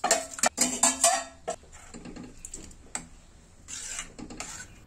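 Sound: adding cooked lentils to a pot

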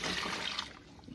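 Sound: room temperature brine water poured for turkey brine

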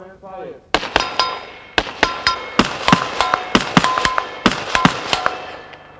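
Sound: 5.56mm armor piercing rounds fired at armor plate

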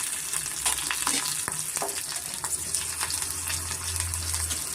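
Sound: garlic and ginger frying in pan for mutton sambar

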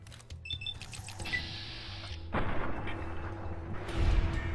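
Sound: gunshots in Fallout New Vegas video game

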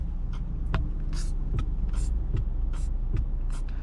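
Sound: car turn signal drum sound

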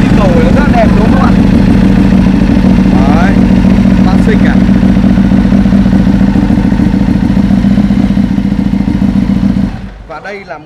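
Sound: motorcycle engine starting and idling

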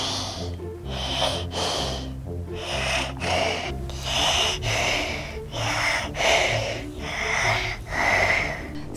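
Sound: deep breathing during a pretend doctor's stethoscope check

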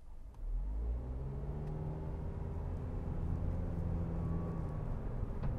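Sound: Suzuki Ignis SZ-T hybrid automatic pulling away, holding first gear

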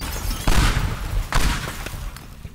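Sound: explosions in the video game Teardown

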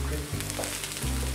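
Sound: Beyond plant-based meat frying and browning in a pan

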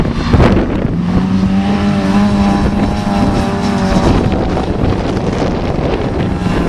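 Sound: autograss race cars racing on a track

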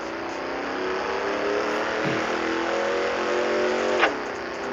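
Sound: car shifting gears and jerking forward in Drag Racing Streets video game

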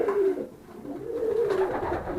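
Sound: pigeons cooing

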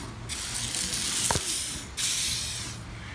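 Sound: aerosol spray being sprayed

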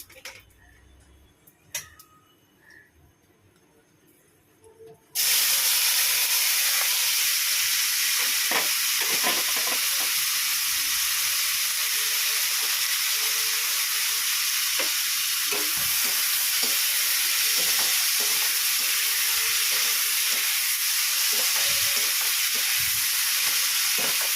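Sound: onion frying in oil

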